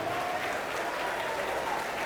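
A congregation at a church service applauds in praise, a steady, even roar of clapping that holds throughout with a faint voice beneath.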